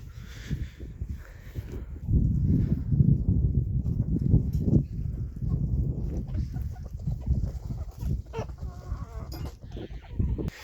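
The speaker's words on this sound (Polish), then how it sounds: "Dzisiaj kurki ozdobne też są wypuszczone na wolny wybieg." Chickens in a henhouse yard, with low clucking and scratching mixed with thuds and shuffling up close, and scattered higher calls over a steady busy background.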